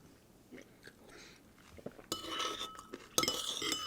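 Chocolate Milkshake Frosted Flakes cereal with milk being chewed, quiet crunches at first, then louder bursts of crunching and a spoon clink close to the mic in the second half.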